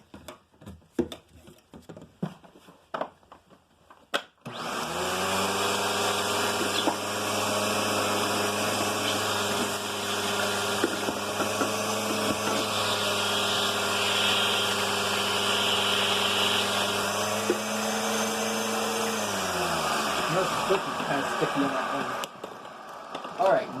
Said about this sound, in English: Vacuum up the rest that was in the dust cup.